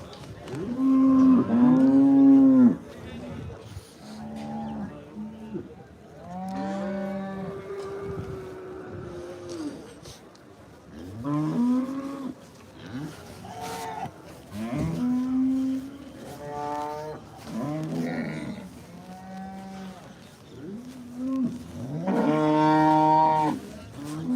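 Cattle moo repeatedly at a busy livestock fair in Punjab, with loud, drawn-out calls from several animals close by and overlapping through the scene, backed by crowd murmur and engine noise.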